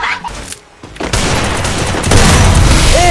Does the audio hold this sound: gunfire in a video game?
yes